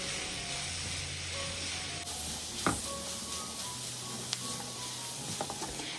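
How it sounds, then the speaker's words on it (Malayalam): Chili powder and ground pepper are stirred in a hot pan, producing a continuous close sizzling hiss broken by a few light clinks of the spoon against the pan. "ഇനി ആ പൊടിയുടെ പച്ചമണം പോകുന്നത് വരെ ഒന്ന് ഇളക്കി കൊടുക്കുക."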